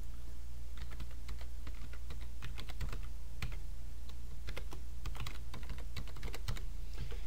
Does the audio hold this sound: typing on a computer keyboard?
yes